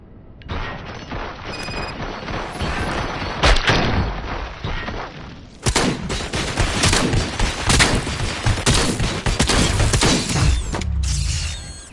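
Sustained loud gunfire from the video game RoboCop: Rogue City, with dense bursts of automatic fire and mechanical clatter, a brief lull near the middle, then heavier continuous shooting.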